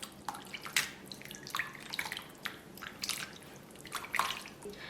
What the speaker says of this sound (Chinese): 放入清水。 抓一抓，清洗2到3遍。